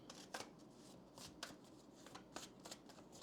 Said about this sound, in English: I'll start off by pulling some oracle cards, and then I'll also pull some tarot cards for you.